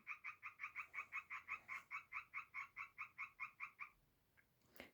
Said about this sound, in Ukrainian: І на фоні у мене жабка квакає